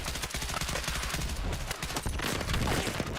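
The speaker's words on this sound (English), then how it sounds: "Dude, mortars." Mortar fire and battle noise in Battlefield 6, a dense, continuous roar of booming impacts and rapid gunfire layered close and loud throughout.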